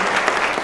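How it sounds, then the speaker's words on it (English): Audience applause at a Laney College gathering on resisting the prison system, honouring formerly incarcerated people, as a brief, steady, fairly loud burst of many hands clapping together with no gaps. "Can we give a clap for everybody who's formerly incarcerated?"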